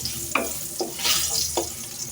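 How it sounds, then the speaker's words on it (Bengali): Chopped garlic fries in oil in a pan while being stirred, a close sizzle broken by three sharp scraping strokes of a spatula at roughly even intervals, with no talking. "এবার রসুন কুচিগুলো হালকা লাল লাল হয়ে আসা পর্যন্ত এটাকে আমি একটু নেড়ে ছেড়ে দিব।"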